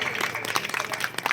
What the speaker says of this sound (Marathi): सर्वांनी जोरदार टाळ्या वाजवायच्या आहे